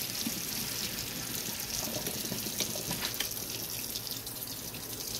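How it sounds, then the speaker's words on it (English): Hot water poured out of a pot and drained onto a cooling rack after boiling face masks for tie-dyeing, a steady close splashing and trickling stream that runs continuously with no talk. "So you want to drain it right onto your cooling rack."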